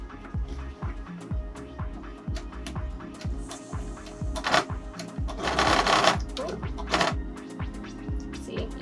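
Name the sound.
sewing machine stitching a pleated skirt seam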